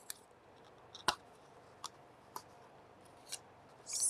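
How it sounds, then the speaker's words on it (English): A die cutting machine pressing a card with a tree die through, held by EZC tape, giving a few sharp isolated clicks and cranking snaps spread across a quiet background, ending in a brighter rising crackle. "while I run it through my die cutting machine"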